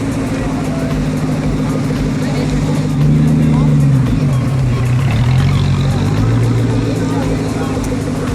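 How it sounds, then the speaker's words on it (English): An orange Ford GT sports car drives past on a Monaco street, its engine a loud low drone that swells and shifts in pitch midway, with people talking over it throughout. "And how about a Ford GT in orange?"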